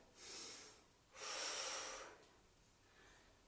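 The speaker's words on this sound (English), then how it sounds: "Breathe in, breathe out." Breathing during a core workout: a faint breath, then a longer audible exhale, soft and close with no other sound.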